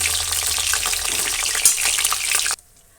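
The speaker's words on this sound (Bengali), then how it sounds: "মাছগুলো আমার ভাজা হয়ে গেছে" Bata fish frying in hot oil in a pan, a dense, loud bubbling sizzle that runs steadily and then cuts off abruptly near the end, leaving near silence.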